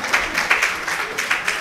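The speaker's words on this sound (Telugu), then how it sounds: "ఒక్కసారి ఆయన కోసం చప్పట్లు కొట్టండి" An audience at a spiritual talk claps briefly, a short patter of scattered hand claps heard fairly close.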